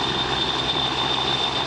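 An AgustaWestland EH-101 Merlin helicopter of the Portuguese Air Force hovers at an air show, a steady loud roar of engines and rotor with a high turbine whine and no break.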